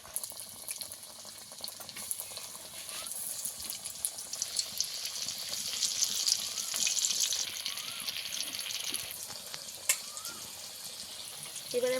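Crispy potato snacks made from raw potato frying in hot oil, a steady hissing sizzle with occasional pops and crackles, close and moderately loud, swelling slightly in the middle.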